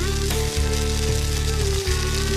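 Coconut pieces with green and dried red chillies fry in a pan for Onam puli inji, a steady loud sizzle running throughout, broken by two brief scraping stir strokes.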